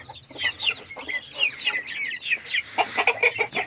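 Repeated soft clucking from a hen at a poultry keeping in Çubuk, Ankara, irregular bursts close by, steady and moderately loud throughout.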